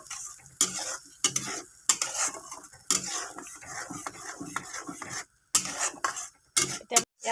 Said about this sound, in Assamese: আৰু খুব ভালকৈ মছলাখিনি ভাজ খাব দিম